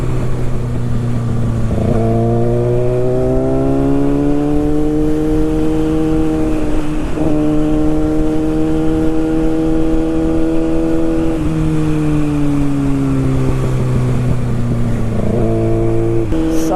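A Kawasaki Ninja sport motorcycle being ridden, its engine note droning steadily and loudly up close, rising and falling in pitch through several gear changes over continuous wind and road rush.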